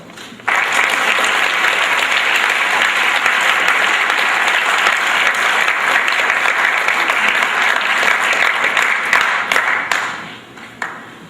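A crowd applauds steadily and loudly for about ten seconds, with dense clapping that fades out near the end.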